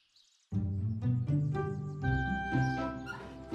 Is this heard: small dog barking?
yes